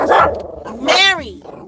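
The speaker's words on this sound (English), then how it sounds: "Look at the size of the dog Mary trying to fight." Dogs bark and growl while fighting, with one sharp bark, then a rising, whining yelp and a growl close by, with a voice mixed in.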